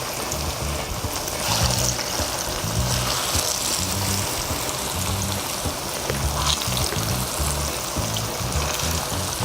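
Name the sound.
plantains frying in pan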